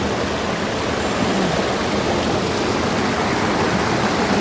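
Steady rushing of a shallow provincial stream flowing over rocks, a dense continuous wash of water sound held close and even throughout, with no talking.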